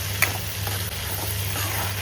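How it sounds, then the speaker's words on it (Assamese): Silkworm pupae stir-fried with onions in a pan, giving a steady close sizzle with faint stirring scrapes and one brief clink, over a low constant hum. "এয়া অকণমান দেৰি এনেকৈ লৰাই অলপ সময় ভাজিলেই হৈ যায়"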